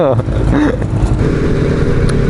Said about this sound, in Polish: jakiś motocyklista jedzie